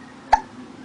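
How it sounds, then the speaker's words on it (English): A small child gives one sharp, close hiccup, a brief isolated catch of breath against quiet room tone. "Yeah, you have the hiccups."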